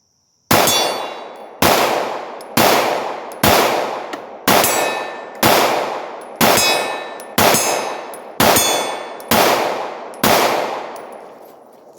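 Eleven sharp pistol shots from a Glock 26 fired at a target 30 yards away at an outdoor range, spaced roughly a second apart in a steady rhythm, each loud crack followed by a ringing decay, with no talking.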